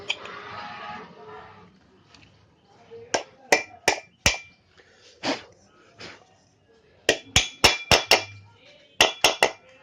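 A bearing is hammered into a ceiling fan, giving a series of sharp metallic knocks in irregular bursts of two to four, loud and close, after a brief stretch of faint rustling.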